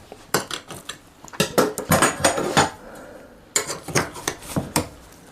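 Knife and utensils clatter against a plate while a large quarter slice of homemade sausage pie is cut and lifted, with sharp irregular clinks and scrapes in two close bursts separated by a short pause.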